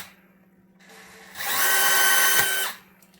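A DeWalt 1/4-inch hex compact right angle driver hums briefly at low speed, then whines loudly at full speed for over a second while driving a screw, and spins down to quiet.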